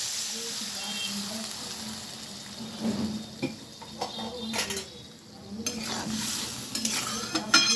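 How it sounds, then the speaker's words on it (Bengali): Water splashes into a hot pan of fried bori lentil dumplings for a poppy-seed bori posto, giving a soft steady sizzle with scraping stirs and clinks, close and fairly quiet, with no talk. "এবার আমি জল দিয়ে দিচ্ছি।"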